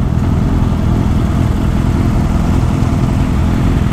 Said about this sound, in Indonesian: Yamaha jesik ni dia bunyi dia sedap tau